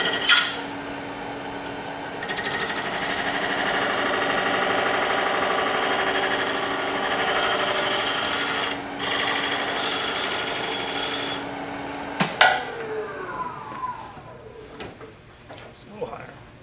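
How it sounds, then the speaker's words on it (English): A bevel rubbing ring or hook tool cuts end grain wood on a lathe, giving a steady whirring scrape for about twelve seconds before it stops with a clatter and fades into quieter handling noises. "It's a bevel rubbing tool,"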